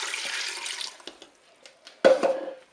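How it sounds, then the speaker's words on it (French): Broth poured into a Cookeo multicooker pot over tomatoes and courgette pieces, a close splashing liquid stream that tapers off, followed by a brief burst of pouring and sloshing. "Je vais verser mon bouillon."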